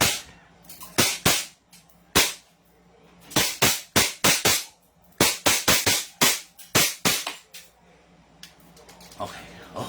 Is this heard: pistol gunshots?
yes